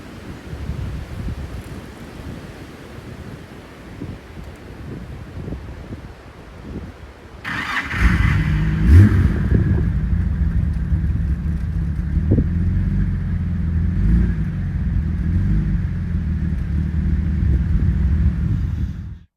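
A Jaguar E-Type engine cranks and catches at about 7.5 seconds, then settles into a loud, steady low rumble through the rest of the clip, with wind noise before the start.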